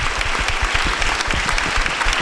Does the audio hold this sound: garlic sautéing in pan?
no